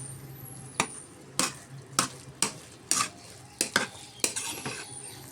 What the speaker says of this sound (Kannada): ಈಗ ಒಮ್ಮೆ ಎಲ್ಲ ಮಿಕ್ಸ್ ಮಾಡ್ಕೊಳ್ತಾ ಇದ್ದೀನಿ